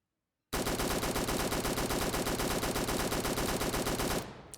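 Sustained automatic fire from a compensator-equipped gun with laser sight in the shooter game Fallen, a dense rapid stream of loud close shots lasting about three and a half seconds before cutting off into a brief tail.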